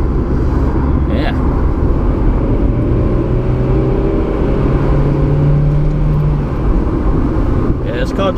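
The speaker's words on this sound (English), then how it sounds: "Yeah, this car just loves to be revved as well." A small, light convertible car's engine revs repeatedly with the roof folded back, rising and falling in loud, close sweeps. It runs over a steady engine drone, with brief handling noises at the start and the end.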